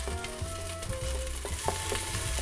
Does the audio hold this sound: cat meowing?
no